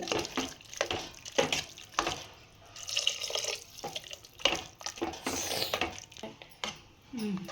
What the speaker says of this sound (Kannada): ಒಂದು ಸ್ವಲ್ಪ ನೀರು ಆ್ಯಡ್ ಮಾಡ್ಕೊತೀನಿ